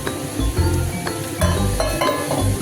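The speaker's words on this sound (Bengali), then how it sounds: "আমি এবার জল দিয়ে দিচ্ছি।" Water poured into a pan of potato and pointed gourd curry after the spices are fried in oil, giving a loud hiss and sizzle mixed with clinks of a spoon against the pot.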